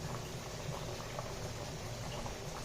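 Curry broth simmers in a pot on the stove, a steady low bubbling and hiss that runs the whole time at moderate level, with no voices.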